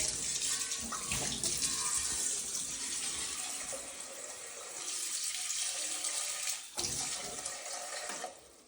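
Tap water runs steadily into a vessel at close range, a continuous splashing rush with a brief shift near the end.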